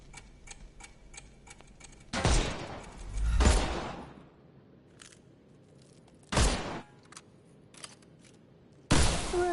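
Gunfire in a Sherlock Holmes video game as shots knock the armour off enemies: a few loud, sharp cracks spaced seconds apart, with a quiet ticking pattern in the background between them and no talking.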